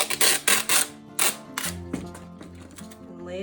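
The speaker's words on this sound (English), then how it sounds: "all I did was I took some packing tape" Packing tape is pulled off the roll in several short, loud ripping bursts, then quieter crinkling and handling sounds close by.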